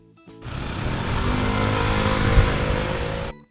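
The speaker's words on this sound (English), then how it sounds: "Motorbike." A motorbike engine revs and runs steadily for about three seconds, close and fairly loud, with a slight surge near the end and no speech.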